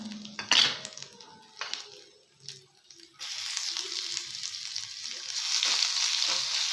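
Ginger garlic paste hitting a hot pan for green peas curry, a quiet clink of utensils followed by a steady, rising sizzle of frying.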